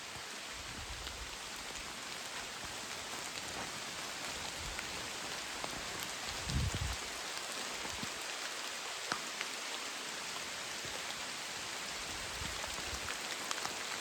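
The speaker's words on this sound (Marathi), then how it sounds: "चांगलाच पाऊस आला आता" Heavy rain pours down on a forest campsite in a dense, steady hiss of drops striking the surfaces nearby. A few louder low thumps rise briefly out of the downpour. It continues without pause and no voices are heard.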